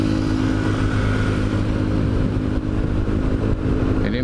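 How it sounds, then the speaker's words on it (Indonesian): Loud motorcycles and other traffic roll along a busy city street in Bandung, a continuous engine drone with revving close by and no talk over it. "Aduh, gandeng motor."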